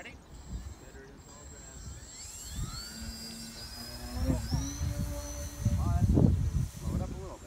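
A Flite Test Guinea Pig RC plane whines overhead at an outdoor RC field on July 4th, its electric motor pitch sliding up and down as throttle changes, with people talking nearby and wind gusts.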